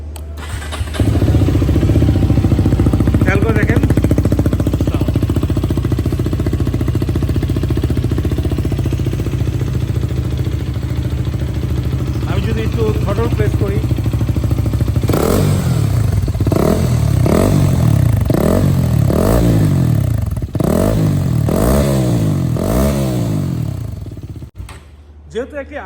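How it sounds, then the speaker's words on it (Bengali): A Hero Karizma XMR 210cc motorcycle with a new exhaust idles steadily and loudly in a closed room, a continuous low rumble, then in the second half a run of short repeated throttle blips rises and falls before the engine cuts off. "এই বাইকটির অ্যাডজাস্টের সাউন্ডটা শুনবো তো এখানে আমি একটি বদ্ধ রুমের মধ্যে আছি"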